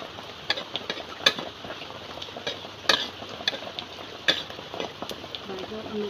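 Food is stirred and fried outdoors on a rainy day, with a spoon clinking and scraping against a pan in irregular taps over a steady low sizzle, and a voice is heard in the background.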